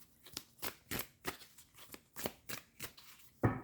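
Tarot cards being shuffled in a repeated rhythm of crisp riffling bursts, roughly ten quick flutters close to the mic, with no talking over them.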